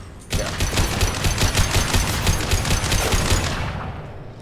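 Sustained rapid automatic gunfire in the sci-fi shooter Mass Effect 2, loud and close with dense rhythmic bursts lasting about three seconds before fading.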